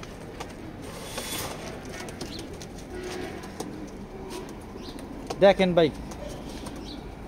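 Pigeon cooing in a racing-pigeon loft, a short burst of rhythmic coos rising briefly near the end over steady background noise and someone talking.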